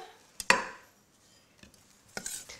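A knife chops fresh rosemary leaves on a board in a few sharp, separate close knocks, quiet between strikes, with no voices.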